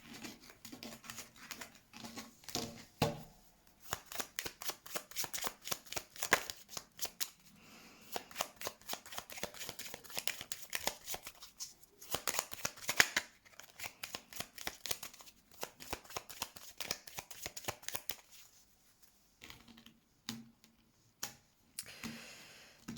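Tarot cards are shuffled for a reading in rapid, repeated riffling bursts of crisp flicking and patter, close and fairly quiet, with brief pauses between rounds.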